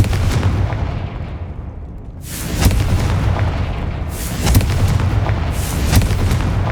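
Repeated Confringo fire-spell blasts in the game Hogwarts Legacy, three loud booming bursts about two seconds apart over a continuous rumbling roar, with no talk.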